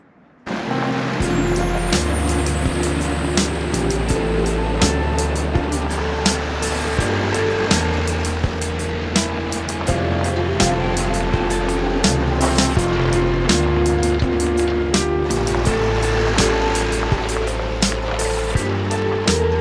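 Boat engine started with the turn of a key, catching abruptly and then running at a steady, loud idle with a dense mechanical drone and repeated ticking clatter throughout.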